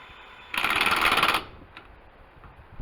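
Lug nuts being tightened on the wheel of an old restored utility trailer: one loud, rapid, rattling mechanical burst of about a second, then quiet with a faint tap or two.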